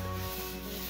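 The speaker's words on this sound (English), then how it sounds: "glue sandpaper to a flat piece of board and use that to sand the table" Sandpaper glued to a flat board rubs across a cedar and resin tabletop, a steady close scraping that shifts slightly partway through, with no voices.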